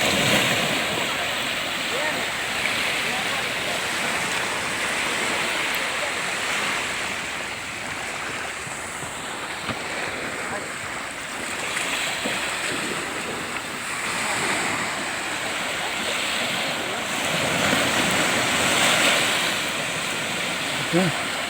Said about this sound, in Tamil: கடல் எவ்வளோ அட்டகாசமாக அடிக்குது பாருங்க